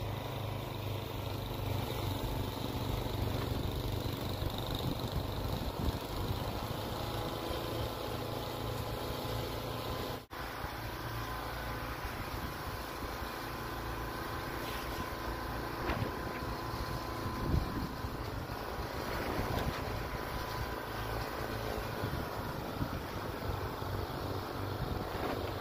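A Craftsman snowblower engine drones steadily outdoors for the whole stretch, its rumble mixed with heavy wind buffeting the microphone and no talk.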